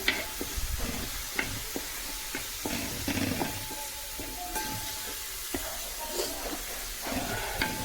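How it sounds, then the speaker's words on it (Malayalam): Sliced onions and crushed shallots fry in hot coconut oil for a Kerala-style chicken curry, giving a steady close sizzle with intermittent scraping and clinking of a spoon stirring in the pan, no voices. "വെളിച്ചെണ്ണ ചൂടായി വന്നിട്ടുണ്ട് അപ്പോൾ അതിലേക്ക് കൂടെ നമ്മൾ രണ്ട് സവാള ഇട്ടിട്ടുണ്ട്"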